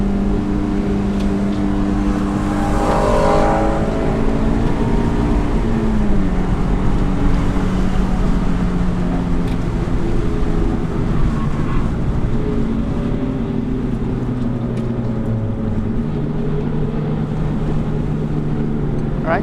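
Car accelerating around a race track at a Carfest event under instruction: a loud, steady engine drone with rising and falling pitch throughout, heard from inside the cabin.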